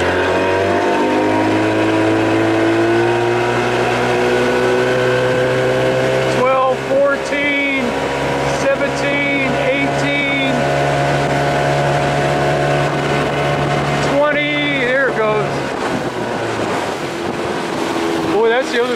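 An outboard motorboat on its first test run after transom repair, a loud, steady engine drone that shifts pitch as the throttle changes, with heavy wind buffeting and water noise throughout and someone talking at times.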